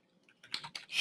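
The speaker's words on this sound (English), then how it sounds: "I can start typing a question over here" A short burst of a few quick, light clicks from a computer keyboard as someone starts typing a question, close by and fairly quiet, with no talking.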